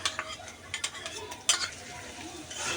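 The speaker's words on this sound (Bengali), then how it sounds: "এবার সব কিছু একসাথে ভালো করে ভেজে নিচ্ছি" Shrimp being stirred and fried with chopped onions and tomato in a pan, spoon scraping and clinking against the metal in irregular strokes over a soft sizzle.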